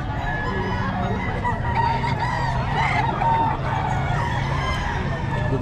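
Gamecock roosters offered for sale cluck and crow amid a steady, busy background of other fowl, the calls overlapping at moderate loudness throughout.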